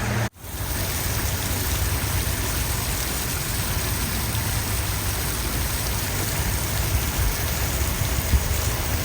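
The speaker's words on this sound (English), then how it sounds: "The little waterfall is working." A small waterfall runs into a backyard pond, a steady, even splashing and rushing of water that continues without a break, close by and moderately loud.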